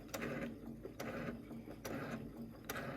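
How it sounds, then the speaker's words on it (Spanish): A domestic sewing machine stitches through thick peach skin fabric, running in short bursts of rapid mechanical clatter separated by brief pauses, close and fairly loud with no talk. "mi máquina de coser doméstica"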